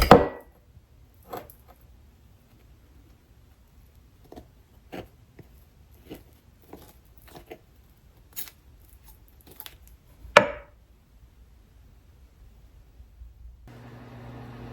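A knife cutting through crusty homemade rosemary garlic bread, a series of faint crisp crunches and taps at irregular intervals, with one sharper knock near the end.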